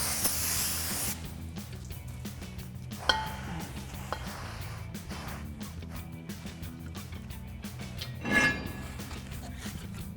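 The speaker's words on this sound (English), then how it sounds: "I'll grab some brake clean and a clean microfiber towel and spray down the surface." Brake cleaner hisses from an aerosol can onto a PowerStop OE replacement brake rotor for a 2009-2020 F-150, with a short spray at the start and another burst later over a steady background hum.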